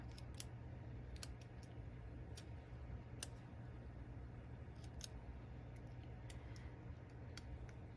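Scissors trim the edges of journal paper in a quiet room, a series of faint, crisp snips at an irregular pace over low background hum.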